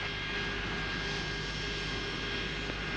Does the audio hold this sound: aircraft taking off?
yes